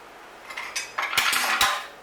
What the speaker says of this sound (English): We get this, we just whisk our spoon through it, right?